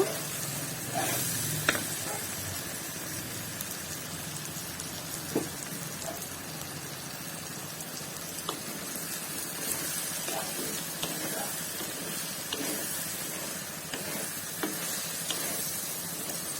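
Mango pickle simmers in a pan over a low flame, giving a faint, continuous sizzle and soft bubbling with occasional small pops and clinks across the whole stretch.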